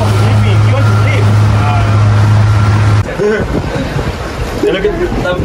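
A boat motor drones steadily on the water off Cabo, Mexico, a loud, close hum that cuts out partway through as wind and water noise carry on, with people talking throughout.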